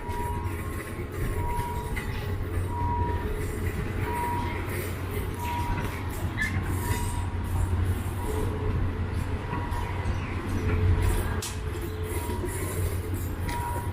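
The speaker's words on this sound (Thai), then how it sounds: "อันนี้เคลื่อนเข้า สถานีมักกะสันง่ายๆเลยนะฮะ ไหลเข้าเลย ลื่นๆนะครับ" A Kiha 183 diesel train rolls slowly and smoothly into Makkasan station, producing a steady low rumble and mechanical hum with faint clicks from the wheels. Someone talks over the sound.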